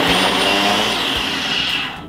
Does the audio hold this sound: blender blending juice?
yes